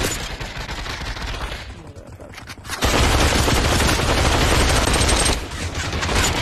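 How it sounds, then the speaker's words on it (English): Gunfire erupts from all directions in the VR shooter Population: ONE during a Phoenix Royale battle royale match, a dense, continuous barrage of overlapping shots that grows much louder midway and stays heavy to the end. "Oh my goodness, there's shots flying from everywhere."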